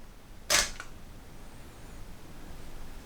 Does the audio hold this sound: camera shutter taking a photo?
yes